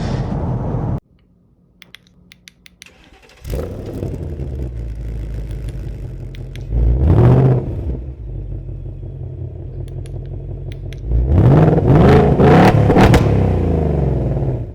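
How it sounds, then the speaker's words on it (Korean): A seventh-generation Ford Mustang GT's naturally aspirated 5.0-litre V8 revs by remote start from outside the car, with three loud, rising bursts separated by quieter idle and faint clatter. "차량 외부에서 이 머스탕의 멋진 이 V8 사운드를 즐길 수 있는 기능입니다."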